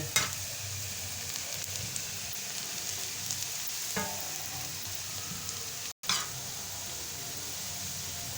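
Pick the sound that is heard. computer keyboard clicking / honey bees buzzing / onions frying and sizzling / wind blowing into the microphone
onions frying and sizzling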